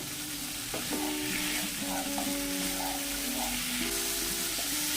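Fried potato and pointed gourd are stirred in a hot pan for a Bengali vegetarian curry, giving a steady close sizzle with scraping spatula strokes and ringing metallic clinks throughout.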